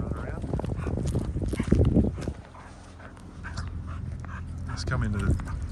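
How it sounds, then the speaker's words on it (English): Dogs run around in the outback near Cobar, panting and snuffling close by, with someone talking over much of it. "Dogs having a run around."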